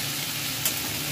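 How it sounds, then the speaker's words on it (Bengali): Fish frying in oil, a brief close burst of dense crackling sizzle with no talk. "দেখো মাছটা যেমন ভাজা হচ্ছে"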